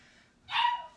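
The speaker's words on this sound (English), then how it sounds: "that barking dog" A single short dog bark sounds at a distance, faint and sharp, against an otherwise quiet background.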